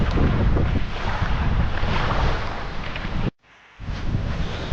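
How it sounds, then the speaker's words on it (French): Strong wind batters a tent beside a gravel pit lake, a loud roaring buffet with flapping fabric, cutting out briefly near the end before gusting back in. "ça devient du n'importe quoi le vent"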